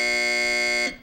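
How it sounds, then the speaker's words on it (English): A game show buzzer on the panel show To Tell The Truth sounds one steady, harsh electronic tone lasting nearly a second before cutting off, loud and alone. "And that buzzer takes us, please, to Peggy Cass."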